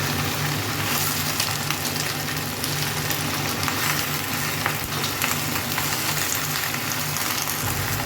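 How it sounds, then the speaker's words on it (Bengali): Malabar spinach (puishaak) frying over a raised gas flame and being stirred in a pan, a steady close sizzle with faint scraping under it and no talk. "পুঁই শাকটা দিয়ে গ্যাসের ফ্লেমটাকে একটুখানি হাইতে করে দিই। ভালো করে নাড়াচাড়া করে মিশিয়ে নেব সব কিছু একসাথে।"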